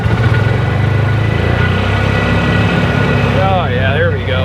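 A rebuilt Polaris Ranger 500 utility vehicle engine runs steadily while cruising slowly down a driveway, a continuous low drone throughout with talk over it.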